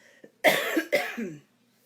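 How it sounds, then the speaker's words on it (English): A person coughs twice in quick succession, close and fairly loud, each burst rough and breathy, with a soft throat noise just before and quiet afterward. "sorry about the cough"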